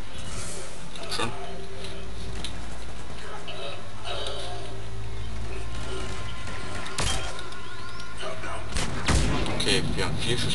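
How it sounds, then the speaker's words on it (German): Heavy pistol shots ring out in the video game Mass Effect 3, scattered sharp bangs among busy combat noise with someone talking over them. "Aber nehme ich meine schwere Pistole."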